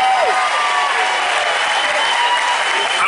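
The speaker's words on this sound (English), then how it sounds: "how about a round of applause for all the chefs and their teams?" Audience applause for the chefs and their teams at an outdoor burger block party, a dense, steady wash of many hands clapping close by that holds at full loudness for about three seconds, with faint crowd cheering mixed in.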